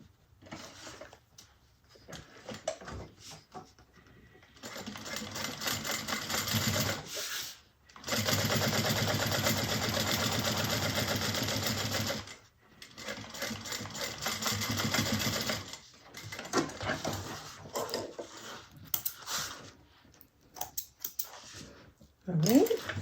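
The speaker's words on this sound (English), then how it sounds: "Then we're going to top stitch right along the bottom" A sewing machine top stitches along the bottom of bag trim in several long, even whirring runs broken by short pauses and stops, with faint voices at moments between the runs.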